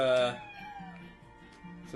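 A cat lets out a single loud, drawn-out meow at the start, then quieter murmuring sounds follow with a voice speaking softly underneath.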